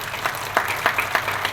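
Church congregation clapping during a New Year sermon, a brief burst of scattered handclaps with a few sharper claps standing out over a hazy room background.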